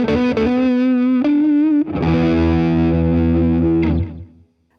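Distorted electric guitar strung with 10-gauge strings plays a sustained note with vibrato, then a thick ringing chord that holds for about two seconds before cutting off, loud and close with no talking.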